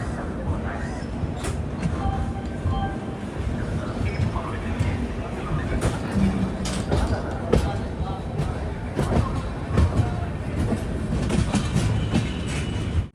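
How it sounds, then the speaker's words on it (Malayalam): A passenger express train rolls along the rails in Kerala after leaving Thiruvananthapuram Central for Kollam, heard from onboard as a continuous loud rumble with rhythmic clickety-clack of wheels, while someone talks over it. "ട്രെയിൻ ഇപ്പോൾ കൊല്ലത്തേക്ക് ഇതാ എത്തുകയാണ്."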